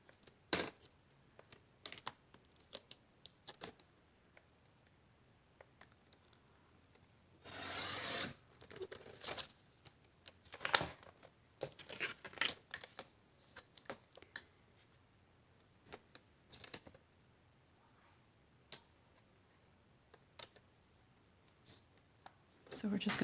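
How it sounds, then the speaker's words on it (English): Paper trimmer slicing the edges off a sheet for stamped card-making, scattered scraping, sliding and clicking handling sounds with one longer cutting rasp midway, close and soft, with a person talking between. "So now we are going to take our paper trimmer and I'm just going to cut off the edges"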